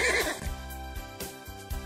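A horse neighs loudly and close, a single shaky whinny trailing off over a couple of seconds.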